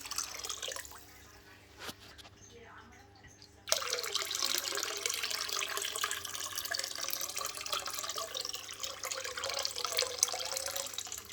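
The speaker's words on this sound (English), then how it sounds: "the water that I got is a little bit colder than the one in the fish tank, so I try to pour it slowly" Fresh conditioned water pours slowly into a 4 ft fish tank, beginning as a quiet trickle and then becoming a steady, close splashing stream that continues without a break.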